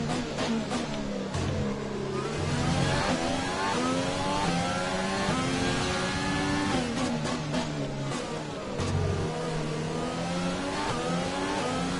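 Formula 1 car engine in the F1 2020 racing game at the Azerbaijan Grand Prix, revving loudly and continuously, its pitch rising and falling repeatedly as the throttle is eased and opened through the turns.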